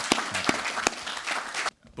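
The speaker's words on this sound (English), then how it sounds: "Everybody, please give Jim Downing a round of applause for his induction into the IMSA Hall of Fame." Audience applause for a Hall of Fame inductee at a motorsport awards ceremony: dense, steady clapping with a few sharper claps, running loud for most of the moment before cutting off abruptly near the end.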